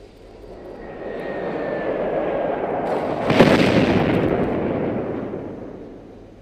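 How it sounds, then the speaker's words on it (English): Jet aircraft from a called-in airstrike in the video game Squad roar overhead, swelling from a distant rumble to a loud close pass at mid-clip with a sharp burst, then fading away; no talking. "Calling airstrike."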